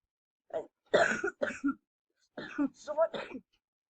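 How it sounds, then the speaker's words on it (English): Several harsh coughs in two short bursts, close up, with a quiet pause between them and no other sound. "I'm having a bit of cough, that's why I'm coughing a bit."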